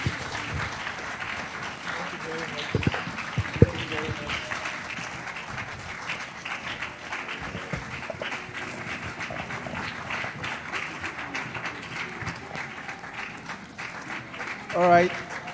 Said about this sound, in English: Let's keep clapping until they leave the podium.